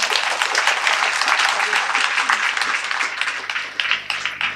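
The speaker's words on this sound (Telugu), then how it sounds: "గట్టిగా చప్పట్లు కొట్టండి." Sustained applause from an audience at a motivational mind-power talk, dense and steady clapping throughout with no pauses.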